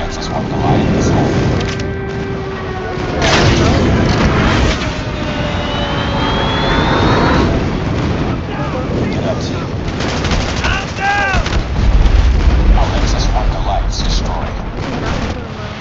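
Airstrike explosions and gunfire in the video game Call of Duty Mobile, a loud continuous barrage of booms and shots with heavier blasts toward the end.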